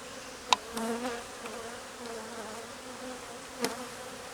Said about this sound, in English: Holy moly, these bees are strong.